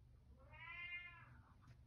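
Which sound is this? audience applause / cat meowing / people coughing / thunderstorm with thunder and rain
cat meowing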